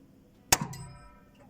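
A single sharp metallic clang as a .38 S&W bullet from a Smith & Wesson Third Model revolver strikes a 5x5 steel gong target, ringing briefly before fading; no talk.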